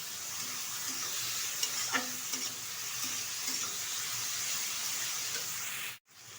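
A hand-ground paste of ginger, garlic, cumin and chili frying in a pan for a mutton-fat ghugni, with a continuous soft sizzle, a few stirring scrapes, and a sudden cutoff near the end.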